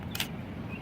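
A camera shutter set to a slow speed fires once, opening with a click and then a short burst of mechanical noise against a quiet room hum.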